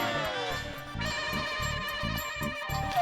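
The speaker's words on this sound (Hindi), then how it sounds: "मेहता साहब को फोन करता हूँ, उनके पास जो पेपर था शायद उसमें आया होगा।" A telephone ringtone repeats in short, evenly spaced electronic bursts, loud and close, with nobody speaking over it.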